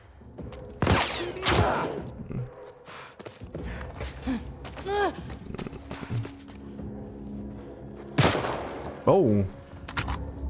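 Gunfire rings out in the video game The Last of Us Part II, several sharp shot bursts spread across the stretch among game effects and a brief gasp, with a player's voice briefly heard.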